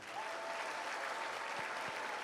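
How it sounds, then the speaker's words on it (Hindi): A seated audience at a spiritual discourse in Indore claps in sustained, even applause, a soft, distant wash of many hands with no voices heard. "तालियां कुछ कम आ रही हैं।"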